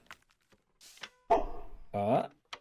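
A dog barks in a video game, a few short yelps and two louder bark-like bursts, close and distinct, with a little quiet clicking between them.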